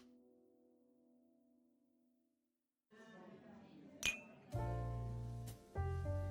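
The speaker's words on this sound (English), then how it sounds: "As music fills the air and glass clink" Glasses clinking at a banquet in Love and Deepspace: a bright single glass chink rings out, followed by sustained musical tones, quiet overall with a soft tonal bed beforehand.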